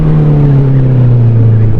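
A Honda CBR 650R motorcycle engine drones steadily while riding, a loud, close, smooth hum with a slowly falling pitch and no talking over it.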